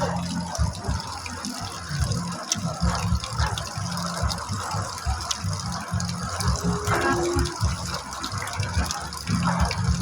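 Heavy rain pours in a dense, continuous rushing wash with splashing and gushing water, close and steady throughout, with faint background voices.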